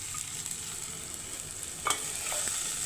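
Onions going into a pan of fenugreek leaves already frying, a faint, soft sizzle with a couple of sharp stirring clinks near the end, with no one talking.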